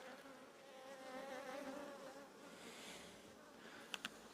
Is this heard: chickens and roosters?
no